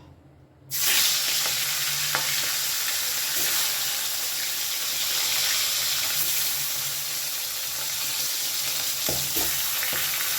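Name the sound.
fish heads frying in hot mustard oil in a wok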